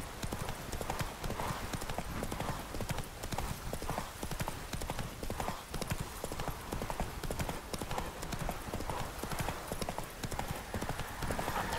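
Horse hooves clip-clop steadily and continuously in The Witcher 3 video game, a brisk riding rhythm with an occasional whinny, mixed with game ambience.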